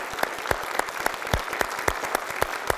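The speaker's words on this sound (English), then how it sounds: "Jack, I want to just give you a round of applause and say thank you" A crowd at a gathering applauds for Jack, with brisk hand claps standing out sharply over a dense background of clapping, heard close and without speech.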